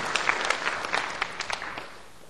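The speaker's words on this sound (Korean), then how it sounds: "축하의 박수 부탁드리겠습니다." A church congregation claps in congratulation after a baptism and confirmation during a Sunday morning service, a fairly quiet, steady patter of many hands lasting a couple of seconds before fading slightly.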